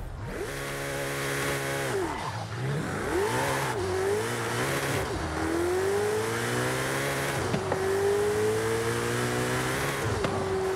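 A Ferrari Pista's engine in Forza Horizon 5 revs hard through repeated gear changes, pitch climbing then dropping with each shift, loud and close with a rasping whine and no speech.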